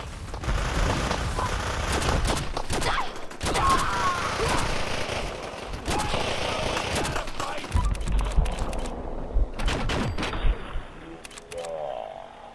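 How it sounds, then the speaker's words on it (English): Gunfire rings out in the virtual reality game Fallout 4 VR, loud, dense volleys of shots and bursts that continue almost without a break, with rumbling game sounds underneath. "There's more shots being fired."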